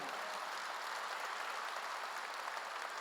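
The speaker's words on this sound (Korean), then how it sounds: "박수로 하나 더 주세요." A congregation applauds during a Korean church sermon: a steady, even patter of clapping, fairly soft and sustained throughout, with no voices.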